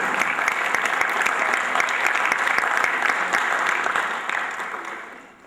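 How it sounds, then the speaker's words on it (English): A concert audience gives steady, close applause for a bass player, the clapping holding strong before fading out over the last second or so. "So give a nice round of applause for Robert Wilson"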